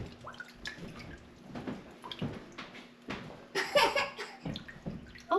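Homemade butter being rinsed by hand in a bowl of cold water gives off soft, intermittent sloshing and dripping, with a brief louder splash near the end.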